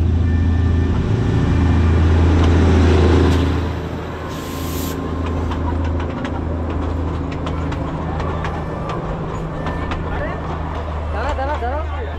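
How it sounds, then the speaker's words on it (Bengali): A train arrives on the line at Darjeeling with a loud, steady low rumble that eases after a few seconds and settles into a continuing mechanical drone, with people talking nearby. "ট্রেন এসে গেছে আমাদের।"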